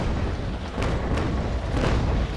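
Ship cannon fire in the naval battle game Naval Action: a few loud, deep booms over a rumbling background, coming in quick succession.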